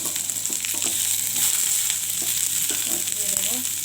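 Fish frying with onions and nigella seeds in a pan, a steady close sizzle with occasional stirring scrapes throughout, no talk.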